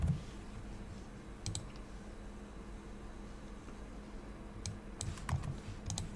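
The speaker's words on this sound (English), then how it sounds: "And type ipconfig," Keys on a computer keyboard tapped in short clustered bursts while entering a command at a Windows 11 command prompt, close and fairly quiet against a soft steady room hiss with long pauses between the groups.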